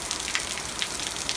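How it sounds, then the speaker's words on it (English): Heavy rain pours down on a hot day, a dense, steady hiss of drops pattering on surfaces, close and continuous, with no voices. "it's just pouring rain out of literally nowhere"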